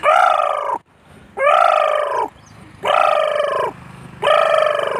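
A person imitates a demoiselle crane's call with four loud, drawn-out honking cries, each about a second long, spaced by brief pauses.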